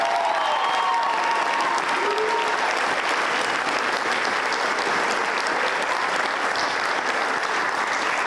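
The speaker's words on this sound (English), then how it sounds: "Can we please give our sponsors one huge round of applause?" Dense, steady applause from a concert audience at a spring high school band concert, thanking sponsors; constant crowd clapping, moderately loud and continuous throughout with no talking.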